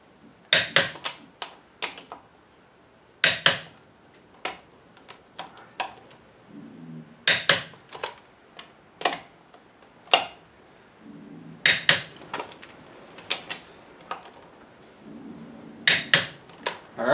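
Ratcheting clicks of a torque wrench tightening wheel lug nuts on a 2004 GMC Sierra 1500 pickup, arriving in sharp close bursts of rapid ticks separated by short pauses, with faint low clunks between sets.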